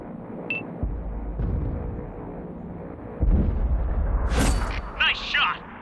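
A tank cannon firing in World of Tanks, a deep heavy boom followed by rumbling game effects and chirping electronic tones, with voices speaking around it.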